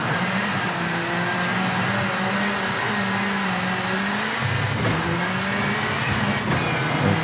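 Rally car engine in the V-Rally 4 racing game, RX2 class, revving hard and accelerating away, a loud continuous drone rising and falling in pitch with gear changes and a faint tire squeal.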